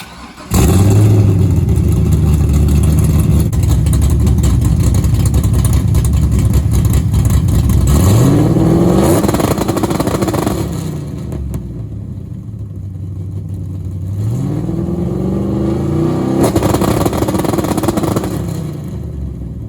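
A 1998–2002 Camaro/Trans Am V8 engine revs repeatedly against a 2-step limiter, loud and close, holding a steady buzzing rev before dropping and climbing again in rising sweeps.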